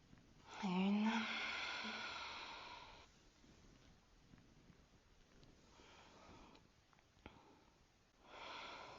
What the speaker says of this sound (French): Allez, encore 5 belles respirations.